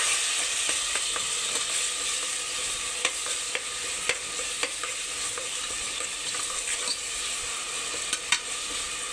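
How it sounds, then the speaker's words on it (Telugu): Salt, turmeric and finely chopped green chillies stirred in a hot pan for birakaya pesarapappu curry, giving a steady sizzle with faint scraping and clicking of a spoon against the pan. "ఉప్పు, పసుపు, సన్నగా కట్ చేసుకున్న పచ్చిమిర్చి వేసి దీన్ని ఒకసారి బాగా మిక్స్ చేసుకుందాం"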